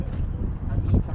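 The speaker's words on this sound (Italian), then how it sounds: "c'è un bel po' di vento" Wind gusting against the microphone outdoors on a mountain outing, a steady low rumble that swells toward the end of the moment; speech-like murmurs mix into the buffeting.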